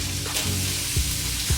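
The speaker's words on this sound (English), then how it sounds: "we're just going to saute off our tofu" Tofu sautéing in oil and vegetable juices in a pan, a steady close sizzle with a couple of brief stirring scrapes, no talking.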